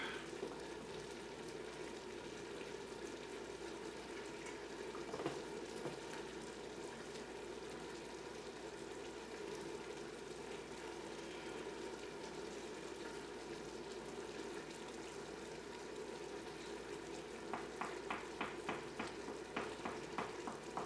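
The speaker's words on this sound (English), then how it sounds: "Just kind of stir it around, make sure your flour's breaking down, and you're getting a good roux." A flour roux for roast beef, basil and rosemary soup is stirred in a pot, giving a soft, constant sizzle with gentle scraping. Quick, light clicks of the spoon against the pot come near the end.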